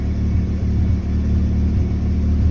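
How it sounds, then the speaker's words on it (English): An Isuzu 2.3 engine runs at a steady idle with a close, even low rumble, and a faint high whine from an overtightened timing belt tensioner sits on top. "I think I got the tensioner on the timing belt a little bit too tight, because it sounds like there's a little whine"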